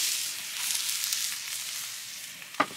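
Italian sausage and mushrooms frying in a hot pan over a campfire, a bright continuous sizzle crackling steadily, ending with a sharp metallic clink of a utensil near the close.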